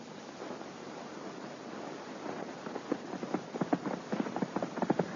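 Radio-drama sound effect of horses running outdoors, a rhythmic clip-clop of hooves that grows steadily louder and faster over a windy rushing background.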